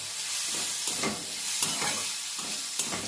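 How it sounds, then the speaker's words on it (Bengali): Pasta soup ingredients frying in a pan while being stirred, a soft steady sizzle broken by rhythmic scraping strokes of the spoon every half second or so. "এবার এটাকে ভালো করে আমরা নাড়িয়ে চাড়িয়ে নেব।"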